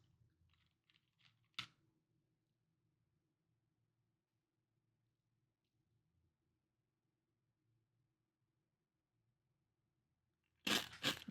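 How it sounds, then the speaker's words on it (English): Someone eats Chex Mix snack close to a microphone, a single sharp crunch early on, then near silence, then a cluster of loud crunching bites at the very end. "I'm eating Chex Mix and beef jerky, teriyaki."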